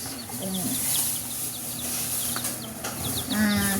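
Pet baby chicks peep in short high chirps scattered through the scene, close by and moderately loud, with some bird-like calls and background noise; no clear talking over them.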